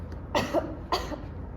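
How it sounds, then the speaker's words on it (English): Two short, low coughs in quick succession, close and clear, over a faint background hum. "I think we all heard the low cough"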